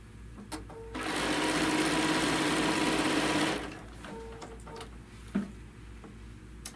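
A sewing machine stitches a quilt panel in one steady whirring run of about two and a half seconds, with faint clicks and handling taps before and after.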